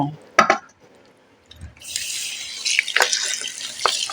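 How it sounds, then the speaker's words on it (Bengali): Water is poured and swished over grated ash gourd in a bowl, beginning with a few clinks and knocks, then a steady splashing rush of water with louder sloshes near the end, close and without talk. "এবারে জল দিয়ে এইভাবে ধুয়ে নেব"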